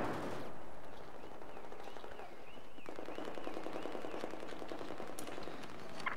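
Sustained gunfire in the video game Battlefield 4, a loud, continuous stream of rapid automatic shots with sharp bursts throughout, no talking.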